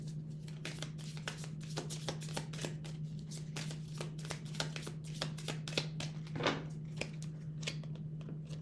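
Tarot cards are shuffled, drawn and laid out in a steady run of crisp, close card flicks and slaps over a constant low hum, with no speech.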